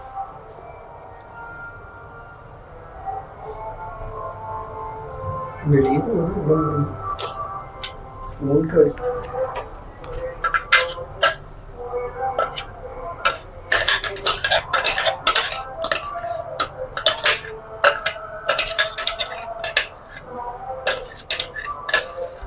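A spoon stirs crushed biscuit mixture in a jar, starting with scattered knocks and building into quick, irregular clinks and scrapes. A voice speaks briefly early on.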